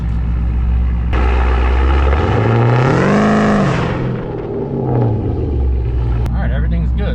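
A 1000 hp Jeep Trackhawk accelerates hard in a race, its engine roaring up to a loud rising howl and then falling back to a lower rumble, close and dominant.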